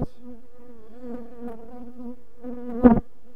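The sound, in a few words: honeybees buzzing on a hive frame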